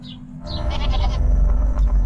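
A small goat on a farm bleats in short, close calls over a low, steady background rumble, with no talking.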